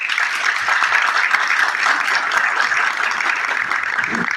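An audience at the Chile ASEAN Business Summit 2025 applauds the Director General of ProChile with an even, continuous round of clapping that holds at a steady level throughout.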